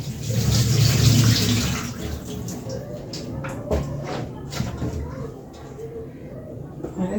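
Potatoes are washed under running kitchen water, a steady close stream with rubbing and shuffling handling sounds, loudest at the start, while a person talks over it.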